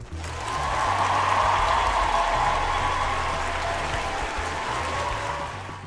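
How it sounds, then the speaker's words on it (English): A live audience bursts into sustained, dense applause that swells in within the first half second, holds steady and loud throughout, and tapers slightly at the end, with no talking over it. "Brother, get a round of applause."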